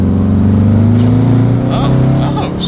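BMW M550 tuned to 900 hp with E50 fuel and methanol injection: a loud, close engine drone holds steady at high load as it is driven, with a rising tone and speech-like voices in the cabin.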